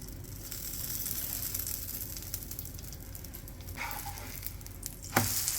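A paneer paratha cooks on a hot pan with ghee, giving a steady, close sizzle throughout, with a brief sharper crackle and scrape near the end as it is flipped or pressed.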